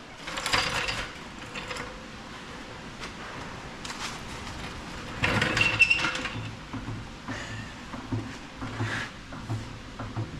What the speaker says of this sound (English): Lucas is going to jack this chassis up so we can try and get this gearbox out